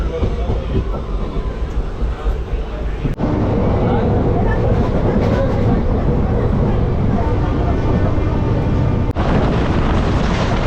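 The Santragachi–Digha fast passenger train (58029) runs steadily, a loud continuous rumble and rattle of wheels on rails heard from on board, with two brief sharp clicks along the way.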